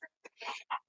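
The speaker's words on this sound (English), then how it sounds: "but that's her chicken that's yelling" A black chicken clucks and squawks in short bursts close by, several separate calls with one longer raucous cry in the middle, loud against an otherwise quiet room.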